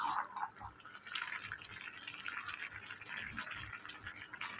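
Boiled taro leaves are drained of their cooking water, giving a steady close trickle and patter of liquid running off with a few brighter drips early on, with no talk.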